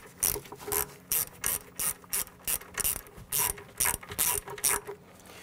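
A socket ratchet clicks in quick rapid bursts while a bolt is run down on the rear ABS wheel speed sensor of a 2008-2017 Buick Enclave; close, crisp pawl clatter with brief pauses, no talking.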